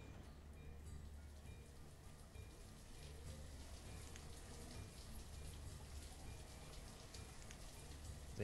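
Steady cold rain from the video game Banished, a continuous even hiss of falling drops with a low rumble underneath, moderately quiet and unbroken by talk.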